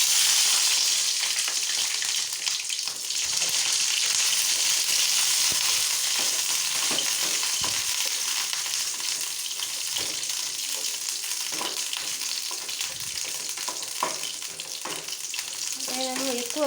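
Green chillies fry in a small amount of oil with garlic, onion and tomatoes for an egg chutney, a continuous close hiss broken by occasional spoon scrapes and stirring knocks, with no voice.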